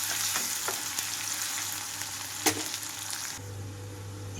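Onions frying over a medium flame in a pan for an ivy gourd fry, a steady soft sizzle throughout with a few light clicks and scrapes and one brief louder knock near the middle.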